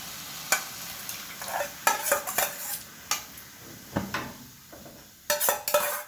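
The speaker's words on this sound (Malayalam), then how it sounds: "തൈര് ഇതിൽ ചേർത്ത് നന്നായി ഒന്ന് മിക്സ് ചെയ്യാം." A spoon scrapes and clinks against a pan as curd is mixed into a curry, with irregular soft stirring strokes, sharp metallic taps and a faint sizzle underneath. The sounds are close and quiet, with no voices.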